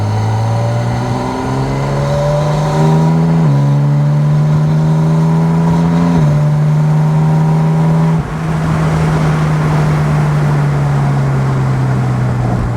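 A 2025 Porsche 718 Spyder RS engine pulls loud and close, its rising note stepping through several gear changes over about thirteen seconds, with no talking.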